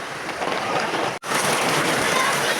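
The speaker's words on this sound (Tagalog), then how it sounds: "Lalo na lumakas ang ulan." Heavy rain pours steadily on an outdoor roadside as a flood begins, a dense broadband wash of falling water that cuts out for a brief instant midway, then resumes just as loud.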